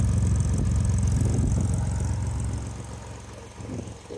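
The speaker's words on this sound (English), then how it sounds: "It's got that cool sound. It's a Boxster motor. It's a horizontally opposed Pistons." A 1963 Chevy Corvair Monza 900's horizontally opposed boxer engine runs steadily nearby with a low, throbbing rumble, easing slightly toward the end.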